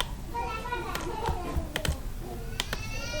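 Keys click on a computer keyboard during spreadsheet work in Excel, a few scattered sharp taps and a firmer keystroke over faint background chatter, with children's voices audible in the distance.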